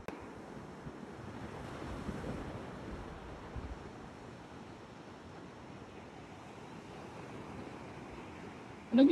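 Ocean waves washing onto Lipit beach in Dipaculao, Aurora, with wind buffeting the microphone, a low continuous surf rumble swelling and fading, then a sharp loud bump right at the end.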